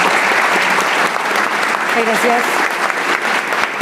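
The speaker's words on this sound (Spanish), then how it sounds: "Les pido un gran aplauso para nuestros panelistas." Audience applause for conference panelists at a hydrogen industry event in Chile, steady clapping throughout with a brief word of thanks spoken over it.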